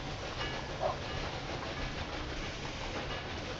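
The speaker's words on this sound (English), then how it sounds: "on our left, you can watch how the cargo train is being unloaded" Cargo train being unloaded in the video game Railway Empire 2, a low, steady rolling rumble of rail wagons with faint clatter, fairly quiet and continuous with no voices.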